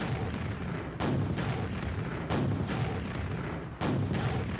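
Heavy gunfire booms from the video game Quake: Scourge of Armagon, loud repeated blasts about every second over a constant rumbling wash, with no talk.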